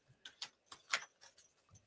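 A deck of cards being shuffled during a mediumship reading, a run of quick papery riffles and flicks in a close, rhythmic sequence, with no talk.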